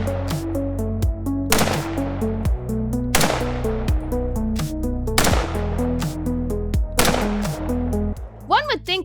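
Mark I EMR rifle fire in the video game STALKER 2: several loud, evenly spaced single shots with long ringing tails over a steady low musical drone, close and punchy.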